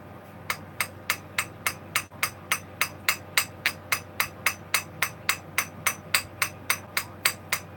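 A hammer strikes a carburetor in steady, evenly spaced metallic blows, close and loud, with about twenty-five strikes in a row over a low hum.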